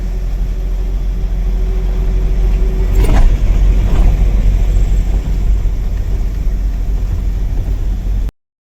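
A loaded goods vehicle drives along a clean road near the Telangana border, heard from inside as a loud, steady engine drone and road rumble, with a brief passing whoosh around the middle.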